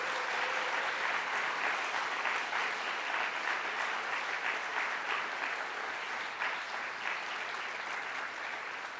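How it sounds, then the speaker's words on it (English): Audience at an evening speaker event applauding steadily, a dense sustained roar of many hands clapping with no talk over it. "A round of applause for all of our talkers this evening."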